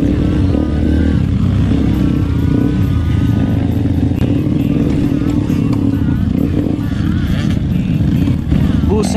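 Motorcycle engine revving hard on a rough off-road trail, a loud continuous rumble with surging throttle and rattling clatter throughout, people talking over it.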